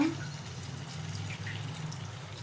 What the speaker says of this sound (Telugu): కొంచెం నీళ్ళు వేసుకున్నా